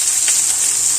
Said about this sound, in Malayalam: സവാള നല്ല പോലെ ഒന്ന് ഇളക്കി കൊടുത്ത് അതൊരു ലൈറ്റ് ബ്രൗൺ കളർ ആകുന്നത് വരെ ഒന്ന് വഴറ്റിയെടുക്കണം